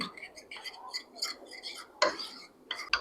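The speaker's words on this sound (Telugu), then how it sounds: "ఈ కుంకుమ మొత్తం ఇందులో కలిసే వరకు కలుపుకోవాలి" Henna paste, made with banana, is stirred with kumkum in a bowl, giving light clinking taps and scraping strokes at an uneven rhythm, close and fairly faint.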